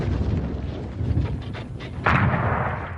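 World War I artillery fire, a dense, rumbling barrage of heavy booms with one big blast landing near the end, loud and continuous with no voices.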